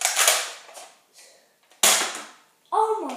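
Nerf guns firing foam darts, three sharp close pops with quick decays spaced about a second apart, with short voice sounds between shots.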